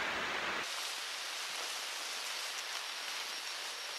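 Heavy rain falls on a tent during a wilderness archery blacktail deer hunt in Washington, a dense, steady hiss of drops, faint and continuous with no voices.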